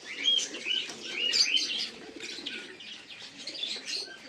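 Giribaz pigeons in a home loft coo softly amid scattered chirps and faint wing rustles, the whole scene fairly quiet and close.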